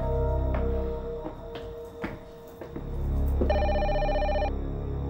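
A telephone bell rings in a quiet indoor room, heard as one clear ringing burst after a few soft knocks and rustles, with no talk over it.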